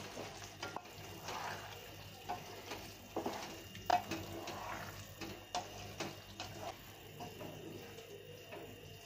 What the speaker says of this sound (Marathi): गूळ आणि पुन्हा एकदा परतून घेऊया म्हणजे गुळ देखील विरघळून जाईल